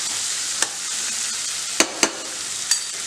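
Khoya fries in a hot kadhai with a steady, close sizzling hiss. Four sharp spoon taps and scrapes cut through it, and no one speaks.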